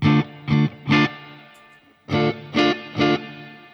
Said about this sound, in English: this here is sort of the same Matchless sound with a lot more reverb and spank to it